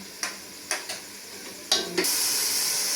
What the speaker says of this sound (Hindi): अब डालूंगी थोड़ी सी अजवाइन